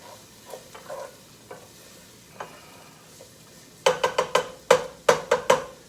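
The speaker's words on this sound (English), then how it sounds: "Give it a little bit of a stir." Ginger fries softly in a pan for cauliflower fried rice, with scattered light scrapes, then a quick run of sharp spatula knocks and stirring clatter near the end.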